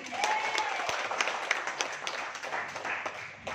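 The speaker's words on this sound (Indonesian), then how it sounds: "Berikan aplaus sekali lagi." An audience in a seminar on interpersonal skills breaks into applause, many hands clapping at a moderate distance in a steady patter that fills the whole few seconds.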